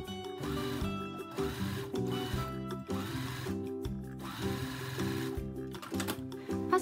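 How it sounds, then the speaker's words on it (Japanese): A sewing machine fitted with a needle for thick fabric topstitches the fabric edge of a box zipper pouch, whirring in quick rhythmic runs with short pauses between bursts, close and fairly quiet. "表生地と内生地の底を揃えて押さえのミシンをかけていきます。"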